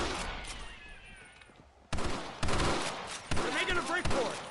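Gunfire in the Red Dead Redemption video game comes as loud bursts of rapid shots after a quieter stretch, with dense overlapping reports and game sound crowding the mix.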